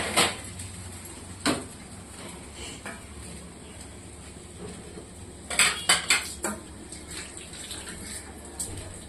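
Household dishes and pots are washed and scrubbed, with sharp metallic clatters and clinks breaking through a running-water wash, some isolated and some in a quick cluster midway.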